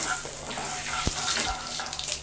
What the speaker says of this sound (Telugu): పోపు దినుసులు కొంచెం అంటే ఆవాలు కొంచెం చిప్పట అనివ్వాలి.